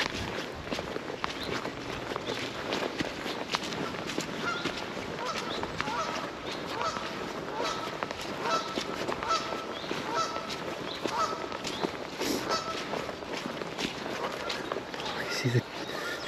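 Geese honk repeatedly beside a river, with a goose sitting on a nest nearby. The calls rise over steady outdoor background noise while someone talks throughout.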